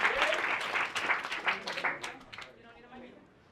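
An audience applauds Team 3 at an education design presentation, a burst of clapping from a modest crowd that fades out over a few seconds into quiet room sound, with some voices mixed in.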